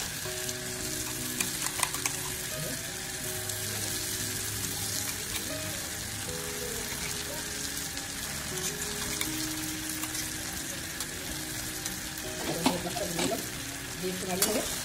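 Cauliflower and spinach curry with white sesame seeds fries and is stirred in a pan: a steady sizzling hiss runs throughout, with occasional spoon knocks and a burst of scraping near the end, over faint tonal background sound.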